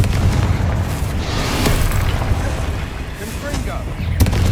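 Confringo blasting-curse explosion in Hogwarts Legacy, a loud rumbling boom with dense crackle that holds steady for several seconds, ending with a sharp burst near the close.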